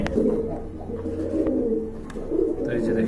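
Pigeons cooing at close range in a loft where a pair is sitting on eggs, steady low throaty coos running through the clip.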